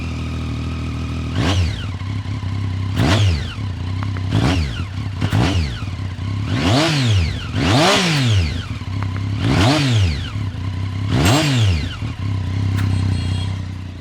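A motorcycle with an aftermarket exhaust starts and revs up and down in six or seven loud, close bursts, each rising and falling over a steady idle, with a light turbine-like whine in between.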